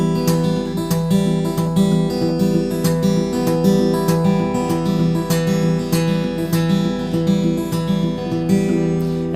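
A guitar plays a Travis picking pattern with palm muting: alternating bass notes under short, damped plucked notes in an even, repeating rhythm, alone and clear.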